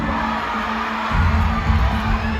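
A large crowd roars and cheers continuously at an announcement of winners, the shouting swelling louder partway through and staying loud to the end.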